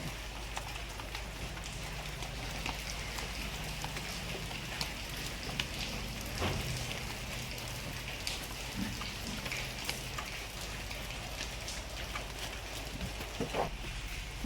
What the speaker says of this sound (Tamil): பண்ருட்டியில் மழை பெய்கிறது